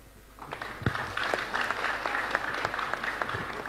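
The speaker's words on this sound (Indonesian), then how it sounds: "Tepuk tangan, tepuk tangan" An audience at a village-focused public discussion breaks into applause that swells from quiet to a full, sustained clapping of many hands, fairly close and even.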